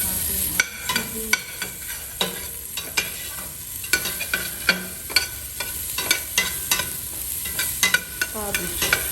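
Cabbage and chili are stir-fried in a pan, giving a steady sizzle with repeated scraping and stirring clatters from a utensil, close and continuous with no talking.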